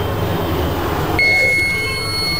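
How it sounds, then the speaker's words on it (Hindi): A rubber stamp making machine gives a single steady electronic beep when its 120-second timer ends. The beep starts midway and holds over a constant machine hum. "तो यहाँ पर बीप आ चुकी है मशीन से और 120 सेकंड की जो टाइमिंग है वो पूरी हो चुकी है"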